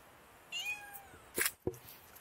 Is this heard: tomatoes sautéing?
no